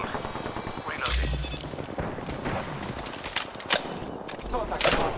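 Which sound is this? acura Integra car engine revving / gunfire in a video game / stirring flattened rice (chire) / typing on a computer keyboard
gunfire in a video game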